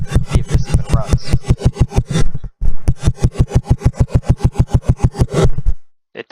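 A small engine with severely retarded ignition timing cranks over in a steady, rapid series of loud chuffing pulses, throttle wide open, stalling briefly around halfway then cranking again before falling silent without ever catching.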